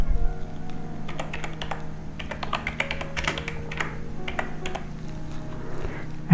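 Steady, fast typing on a computer keyboard, with close, crisp key clicks running continuously at a moderate level and no voices.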